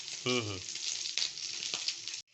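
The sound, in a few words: pork frying in its own rendered fat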